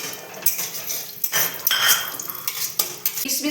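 Cashews and raisins frying in oil in a pan, heard mostly as metal spoon scraping and clinking against the pan with a faint sizzle underneath, close up and fairly loud.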